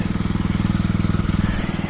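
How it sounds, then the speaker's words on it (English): Old plow tractor engine idling steadily just after starting, a close, loud rhythmic chugging with even low pulses throughout. "Well, I got the old plow tractor fired up."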